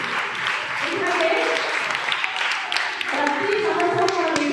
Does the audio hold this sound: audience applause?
yes